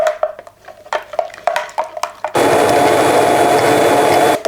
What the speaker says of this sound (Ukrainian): Розколочуємо все та будемо пробивати занурювальним блендером до однорідності.